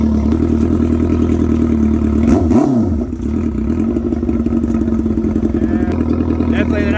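A boosted crosskart with a manual transmission engine-braking as it slows, a steady mid-pitched engine drone with a brief lurch of shifting or braking noise near the middle, loud and close, then settling back into an even idle-like hum.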